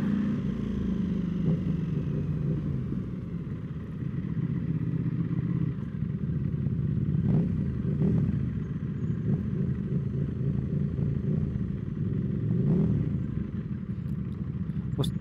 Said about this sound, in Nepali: कस्तो भ्यार भ्यार नोइज आयो बाइकको त